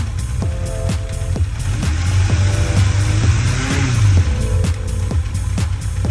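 An engine with a freshly tuned carburetor revs up and settles in repeated loud, close swells, its low droning note climbing and dropping, with no voices over it.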